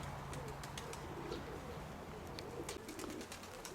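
A pigeon coos softly in a low, repeated rhythm, set against faint outdoor background noise and occasional small chirps.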